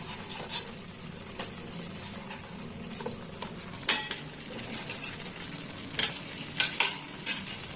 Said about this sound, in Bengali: এবার এর মধ্যে দিয়ে দেবো কাঁচা লঙ্কা আর এর অর্ধেকটা সেদ্ধ করা আলুগুলো